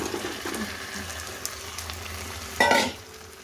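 Chicken pieces tipped into a hot pan of spiced oil for a Bengali chicken kosha, frying and being stirred, with a louder burst of sizzle and scraping near the end; no talking.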